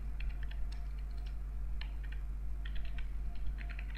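Keys clatter in short bursts of quick taps on a computer keyboard as a WordPress post title is entered, with brief pauses between words over a steady low background hum.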